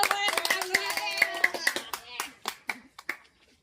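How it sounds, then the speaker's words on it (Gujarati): Studio audience on a Gujarati TV reality show claps for the winner of a ticket to the finale, a dense burst of applause that thins into scattered single claps and fades out, with voices mixed in. "તાળી તો પાડો"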